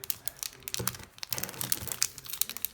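Plastic packaging crinkles and crackles in dense, close bursts while an RS3M 2020 speed cube is unboxed, with sharp tearing snaps scattered throughout and no talking.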